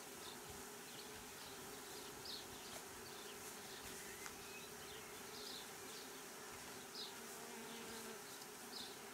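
Honeybee swarm taken from a bee box into a Warré hive, producing a constant dense buzzing drone that stays even and fairly near throughout, no voices.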